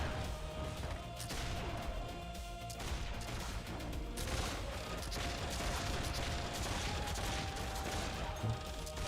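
Sustained machine-gun turret fire in Warhammer Online's Return of Reckoning, a continuous dense rattle of overlapping shots with a thin mechanical whine running through, loud and unbroken for several seconds, no talking.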